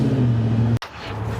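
Ford F-150 pickup truck engine running up close with a steady low tone, then cutting off abruptly for a moment before the rumble returns; no talking.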